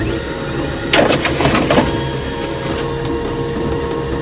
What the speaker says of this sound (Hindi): प्रिंटर में अटका हुआ कागज पूरी तरह से बाहर निकल गया